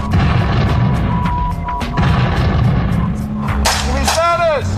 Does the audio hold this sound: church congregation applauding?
no